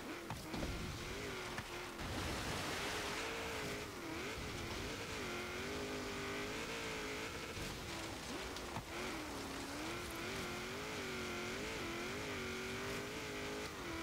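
A 1991 Jeep Grand Wagoneer drives offroad over bumps and jumps in Forza Horizon 3, its game engine holding a steady tone with wavering pitch, fairly quiet and continuous, with no talking.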